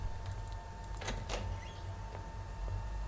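A door creaks open in the horror video game Obscuritas, two drawn-out squeaky groans over a steady low room hum, fairly faint and with no talk.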